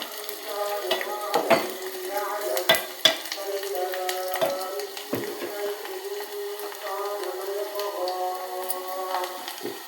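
A tempering for gongura dal sizzles in hot oil and is stirred. The frying crackles steadily throughout, close up, with intermittent scrapes and clinks of a spoon against the pan.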